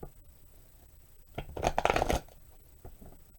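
A brief burst of tarot cards being shuffled, a quick riffling flutter of about half a second, close and fairly quiet, with soft handling sounds around it.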